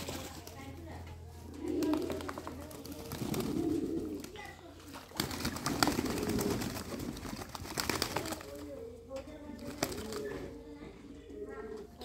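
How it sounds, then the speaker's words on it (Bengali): Pigeons perched on a tin roof of a pigeon farm, giving several low, soft cooing calls in clusters, fairly faint against background noise and occasional voices. "এখনো উপরে টিনের উপরে কবুতর আছে"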